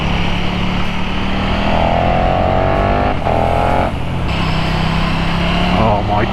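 A 2022 KTM Superduke R motorcycle rides along a countryside road near Buxton and the Cat & Fiddle, its engine droning steadily and loudly under heavy wind rush, with a rider talking over it throughout.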